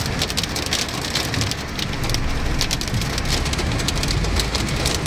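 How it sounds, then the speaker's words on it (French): Hail and heavy rain pelting a car during a thunderstorm front, a dense, loud, continuous patter of hard impacts drumming on the body and roof, with no voices. "Ah, c'était sûr qu'il allait y avoir de la grêle là-dessous"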